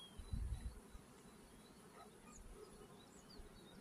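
Honeybees buzzing around an open hive frame during an apiary inspection, a faint continuous insect drone with a brief louder low rumble near the start.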